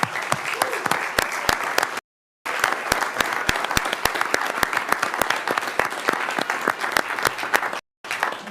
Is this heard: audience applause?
yes